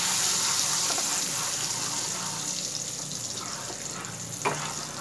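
Butter is stirred into a pan of butterscotch, giving a soft, steady sizzle with light scraping and a sharp tap near the end, fairly quiet and with no talking.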